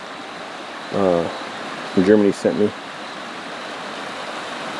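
A river flows steadily below a tarp campsite in the woods, a constant broadband rush heard throughout, with someone speaking briefly over it.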